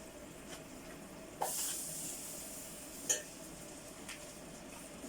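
Rama margarine melts in a pot on the stove with a faint, soft sizzle and hiss, broken by a few brief clinks and scrapes of a utensil against the pot.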